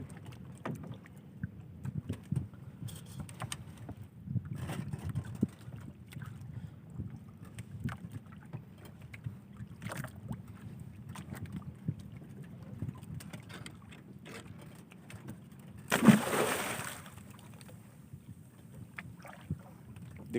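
A small wooden fishing boat, a bangka, rocks on the water, with faint knocks, sloshing and wind buffeting over a low rumble, and one louder splash near the end.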